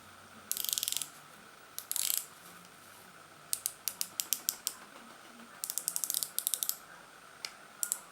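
A Tag Heuer F1 watch's diver-style bezel turns in short bursts of crisp, positive ratcheting clicks, close and distinct, with pauses between the runs and no talking over them.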